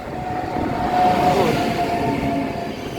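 A train rumbles steadily close by, with a faint high whine over the rolling noise and no voices, in South Tyrol.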